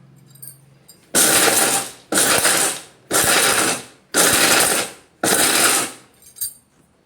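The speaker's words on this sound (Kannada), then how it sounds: "ಇದನ್ನ ಇವಾಗ ರಿವರ್ಸ್ ಪಲ್ಸ್ನೊಳಗೆ ತರಿಯಾಗಿ ಗ್ರ್ಯಾಂಡ್ ಮಾಡ್ಕೊಂಡು ಬರೋಣ್ರಿ" A mixer grinder on reverse pulse coarsely grinding jaggery, ginger, cardamom and peanuts: five loud, close whirring bursts of about a second each, separated by short pauses, with a rattling mechanical edge and no talk.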